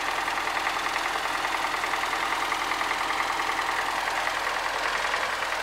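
An MTZ 80 tractor engine idles in a cold field, a steady, continuous diesel drone with a fine rhythmic knock, close and unchanging throughout.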